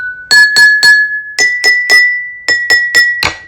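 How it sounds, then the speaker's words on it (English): A struck glass rings with a clear sustained tone while being tapped in quick groups of three and four sharp strikes, loud and close. "of absorbs and slows down the vibration of the glass"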